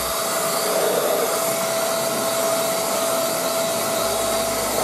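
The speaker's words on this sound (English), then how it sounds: "Then I'm using the blower again." A blower roars steadily and close, pushing air to clean out the area under a car's windshield wipers, one unbroken rushing whoosh with no talking.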